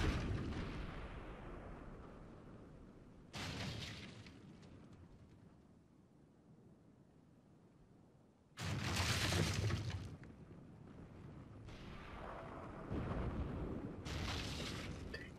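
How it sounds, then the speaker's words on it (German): Cannon artillery fire in Medieval II Total War, with three loud booming volleys around 3.5, 9 and 13 seconds, each rolling out over rumbling battle noise with no talking. "wenn sie so schön eng zusammenstehen, dann können die Kanonen doch noch so ein bisschen wirken."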